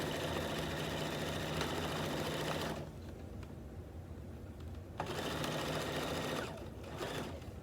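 A sewing machine stitches binding onto a quilt near a mitered corner, running in loud steady bursts with a pause in the middle and a second run before slowing.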